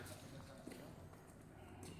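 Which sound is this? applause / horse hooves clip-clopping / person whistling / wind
horse hooves clip-clopping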